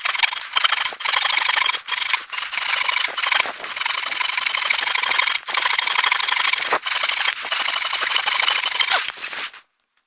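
A handsaw cuts through an old apple tree stump, trimming it level during pruning of old apple trees; steady, close rasping strokes run continuously with brief pauses, loud and alone, ending abruptly.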